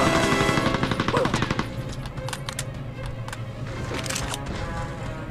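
Enemy gunfire rattles toward the player in the video game Mercenaries, rapid bursts of repeated shots that start loud and continue somewhat lower, with scattered sharper cracks.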